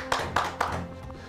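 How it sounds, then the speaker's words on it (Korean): A few scattered hand claps from an audience, three or four distinct claps in quick succession over a low hum, close and fairly soft. "박수 한번 치시죠"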